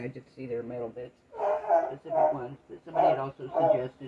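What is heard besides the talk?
dog barking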